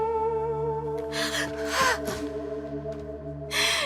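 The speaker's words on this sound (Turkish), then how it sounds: "Nefes alıyor, kurtuldu gel." A child gasps for breath as breathing returns, several sharp breathy intakes over a sustained musical drone.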